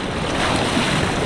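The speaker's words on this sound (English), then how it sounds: "Oh, these waves don't stop." Ocean waves breaking and surging at a beach in Tenerife, a loud continuous wash of surf with wind noise, heard up close.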